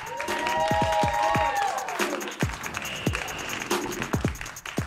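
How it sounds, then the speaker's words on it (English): A comedy show audience's applause and cheering rise and continue as a performer comes to the stage, mixed with bright musical tones and sharp percussive hits. "A big round of applause."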